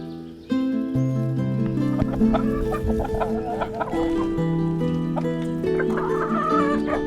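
Chickens cluck loudly and close up in repeated bursts, with steady music playing underneath.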